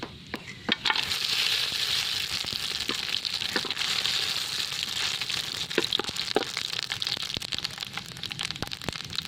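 Mustard seeds and whole spices sputter in sesame oil for a Tamil-style chicken keema, giving a steady close sizzle with scattered sharp pops and crackles throughout.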